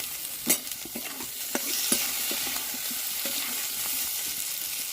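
A utensil scrapes and clicks repeatedly against a frying pan while chopped tomatoes sizzle steadily underneath with fried onions, close and moderately loud, with no voices.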